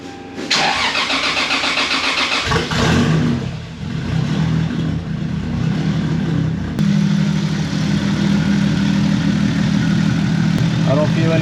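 A MKIV Toyota Supra turbo engine with a new wastegate cranks and fires, revs briefly, then settles into a steady loud idle close by, with some talking early on.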